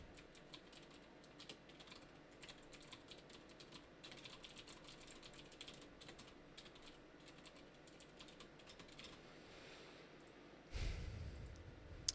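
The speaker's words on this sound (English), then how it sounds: "I'm just typing it in." Quiet, continuous clatter of fingers typing on a computer keyboard at a desk, rapid irregular keystrokes throughout, close but soft, with a brief louder rustle near the end.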